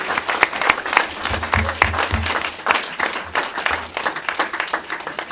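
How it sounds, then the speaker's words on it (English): Audience applause for a 6U youth flag football team at a city event, steady dense clapping from a crowd filling the whole stretch, close and loud, with faint voices mixed in. "Y'all give them a round of applause."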